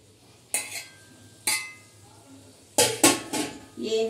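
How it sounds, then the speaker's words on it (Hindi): Metal kitchenware clanks a few times, ending with a lid settling onto a pot of cooking okra with a clink, amid quiet background. "फिर थोड़ी देर के लिए ढक्कन बंद कर देंगे इसका"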